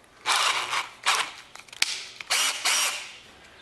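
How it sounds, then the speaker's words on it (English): A power drill with extra-long bits made from welded bar stock bores through transom bolts on a MirroCraft boat, with several loud close bursts of drilling split by short pauses and a sharp knock. "Now I'm going to finish drilling through some of these transom bolts"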